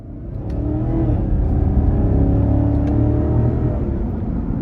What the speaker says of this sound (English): let's go ahead and take this CTS-V out on the road for a quick test drive